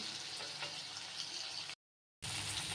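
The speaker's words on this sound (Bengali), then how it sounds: "এরকম করে সব কিছুই আমি একটু আলতো আলতো করে ভেজে নিচ্ছি" Potatoes frying lightly in a pan, a steady soft sizzle that runs evenly, breaks off for a moment of silence, then resumes at the same low level.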